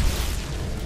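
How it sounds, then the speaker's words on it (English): Grenade explosion in Apex Legends, a single broad, dull boom with a sustained rumbling tail lasting under a second, moderately loud with no voices over it. "Grenade."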